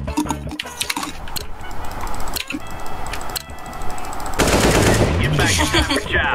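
Loud, rapid automatic gunfire from the video game CS:GO, dense bursts of rifle shots running nearly continuously, with brief gaps, and growing heavier toward the end.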